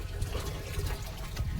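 Water runs and splashes into containers being filled at home, a brief close gushing flow with a low rumble, steady and without talk.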